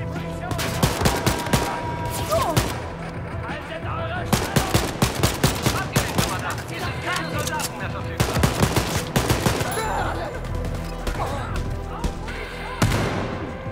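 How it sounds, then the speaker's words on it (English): Assault rifle gunfire in the shooter Wolfenstein: Youngblood, with loud rapid bursts of shots repeating in clusters over the whole stretch amid other combat noise. "This assault rifle is so good."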